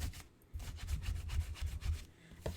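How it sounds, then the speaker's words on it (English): Rubbing the back of a paper card, a series of soft scratchy strokes in a quick back-and-forth rhythm, faint and close with no talk. "I'm just going to give that a quick rub from the back."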